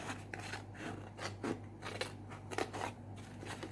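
Scissors snip and trim card stock for handmade Christmas cards, a series of quiet, close, crisp cuts at irregular intervals over a low steady hum, with no talking.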